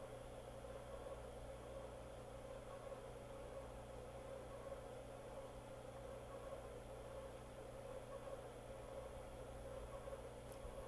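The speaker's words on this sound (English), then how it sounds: "So if you hear the laundry machine, everything's okay." A steady low mechanical hum and whir of a laundry machine running, faint and constant in the background with no other sounds.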